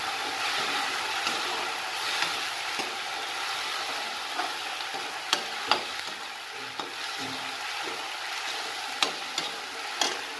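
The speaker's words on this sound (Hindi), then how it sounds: "टमाटर से पहले थोड़ा सा लहसुन मिर्ची का पेस्ट ऐड करती हूँ, बस इसको थोड़ा सा फ्राई करूँ" Garlic and chili paste frying in a pan for masala bhindi gives a steady, close sizzle with scattered sharp crackles and pops throughout, and no voices.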